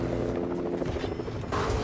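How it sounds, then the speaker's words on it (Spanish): A helicopter in the Fortnite video game thumps with a loud, steady rotor drone that swells slightly near the end, filling the whole moment with no talk over it. "Viene el helicóptero."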